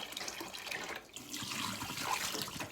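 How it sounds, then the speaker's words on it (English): Canning jars come out of a pot of hot water while brewing turkey bone broth, with water sloshing, dripping and splashing back into the pot in a steady wet trickle that stays close and fairly quiet. "I'm gonna pull my my jars out of the hot water"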